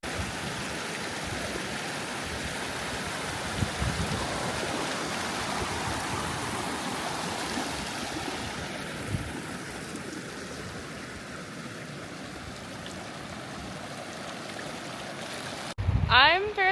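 A river rushes along a mountain hiking trail on a 14er climb in the Colorado high country, a steady, broad roar of flowing water close by, with a brief louder knock at the end.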